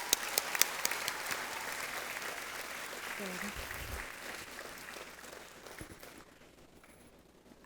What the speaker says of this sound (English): I think we can give them another round of applause.